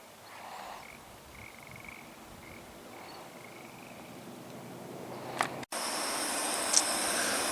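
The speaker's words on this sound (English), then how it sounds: "He wants to see if he can see one of those frogs that we hear croaking." Frogs croak in short repeated calls across the Uncompahgre Plateau, faint and somewhat distant against a quiet outdoor background, followed by a brief handling noise and a louder ambient shift.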